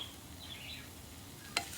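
Garlic and butter stirred together in a pan, a quiet, steady sizzle with soft scraping and one brief bright clink near the end.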